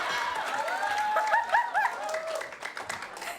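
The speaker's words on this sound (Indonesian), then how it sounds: "tepuk tangan" A studio audience at an Indonesian TV comedy show applauds in a steady, dense patter, with a whistled or sung tonal line riding over it and voices mixed in.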